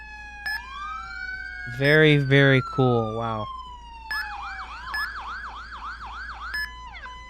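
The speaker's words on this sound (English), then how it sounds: "they also updated the siren for the FD as well" A synthetic fire department siren in a video game cycles through rising wails, a short honking burst and rapid yelping patterns, with a voice briefly speaking over it.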